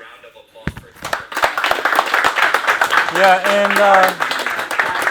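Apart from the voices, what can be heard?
audience applause for Taylor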